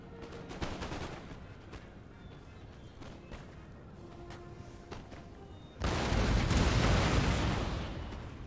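A massed musket volley in the Empire: Total War battle game erupts as a loud, dense crackling burst, following a stretch of scattered distant shots and battlefield rumble, then tails off over a couple of seconds.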